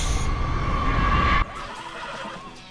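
A horse neighs in The Last of Us video game, a loud, close whinny with an engine-like rumble under it that stops abruptly, then quieter game ambience with faint rustling follows.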